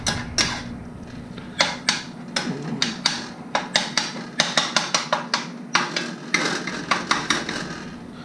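Metal spoon chopping and scraping ground beef in a pan for shepherd's pie, giving a steady run of sharp clinks and knocks at an uneven rhythm, close and clear with a soft sizzle underneath.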